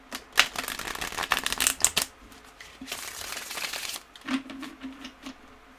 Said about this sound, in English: going to shuffle the cards.